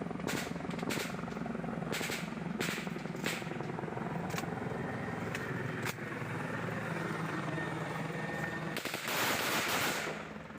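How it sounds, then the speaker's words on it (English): Bursts of gunfire crack out in short volleys, loud and sharp, then spaced single shots, aimed at a Bell 412 helicopter during a border conflict in Papua, with a steady rotor-like drone running beneath. "shows the TPN shooting at what appears to be a Bell 412 helicopter"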